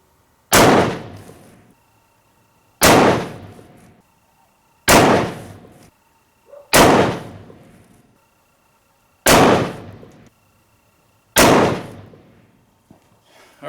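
Six .338 Lapua rifle shots fired one at a time in a volley at a shooting range, each a loud, sharp report with a short decaying echo, spaced about two seconds apart; no talk.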